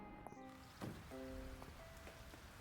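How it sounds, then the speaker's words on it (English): Soft, steady rain falling in the farming video game Fields of Mistria, a faint continuous patter under light chiming game tones and a few small clicks. "And it's raining"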